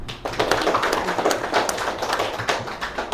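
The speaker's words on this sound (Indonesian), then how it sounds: "saya minta aplaus untuk Ibu Kepala Sekolah" Applause for a school principal at a school gathering, a dense steady patter of many hands clapping at close range, continuous for the whole stretch with no talk over it.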